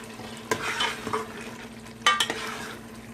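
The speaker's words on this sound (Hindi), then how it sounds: "हमने इसमें मुसलसल चमचा हिलाना है और इसको अच्छे से भूनना है।" A spoon stirs nihari meat frying in a pot, with a steady sizzle and a few distinct scraping strokes near at hand.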